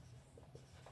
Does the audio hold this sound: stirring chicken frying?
no